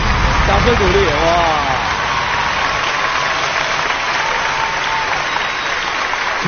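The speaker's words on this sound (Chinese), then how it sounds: "掌声鼓励" A studio audience at a family game show breaks into loud, steady applause that begins under a voice and keeps going as a dense, even roar of clapping.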